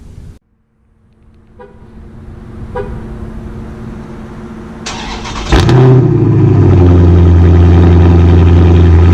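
A 1998 BMW M3 engine cranks over with a starter whir, catches with a loud rev, then settles into a deep, steady idle rumble close by.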